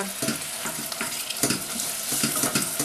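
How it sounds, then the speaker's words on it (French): Peeled tomatoes land in a pan of fried onions and garlic and are crushed, producing a steady close sizzle with repeated scraping and stirring strokes, loud and continuous, with no voices. "Je vais ajouter mes tomates pelées que je vais écraser"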